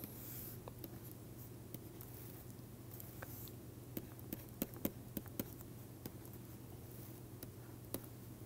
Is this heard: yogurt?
no